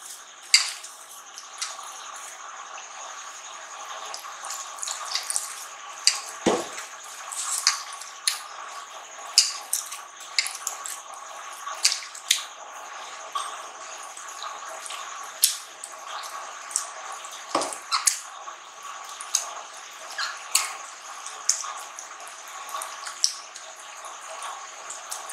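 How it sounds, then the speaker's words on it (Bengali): Soaked bread being squeezed and mashed by hand for bread pudding: a continuous wet squishing with soft drips and squelches, close up, lasting throughout, with no speech. "রুটিটা ভিজিয়ে হাত দিয়ে চটকে একটা কাঠ তৈরি করে নেব।"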